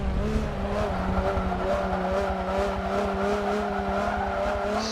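Subaru Brat in Forza 7 holds a steady droning engine note through a long corner, with tires scrubbing and squealing under load, close and continuous with no talk.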